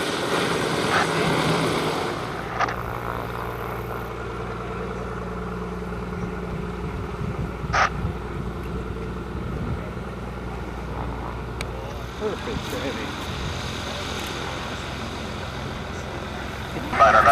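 Small propeller airplane approaching to land at a fly-in in Bemidji, Minnesota, its steady engine drone holding at moderate distance with faint clunks and rattles layered over it.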